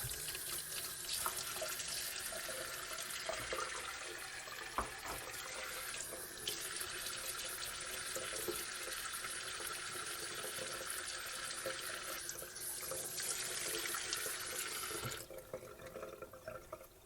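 Lemons are rinsed under a kitchen faucet, a steady close rush of running water splashing into a sink that goes on without a break, with no speech.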